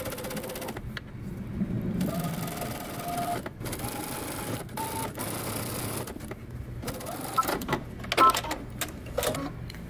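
A sewing machine with a regular presser foot bastes an invisible zipper onto a dress seam, its motor stopping and restarting in short stitching runs, close and moderately loud against a faint background.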